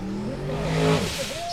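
Formula Offroad car engine revving hard at full throttle during an off-road run, a loud continuous rising and falling engine drone with harmonic whine, close and sustained for the whole moment.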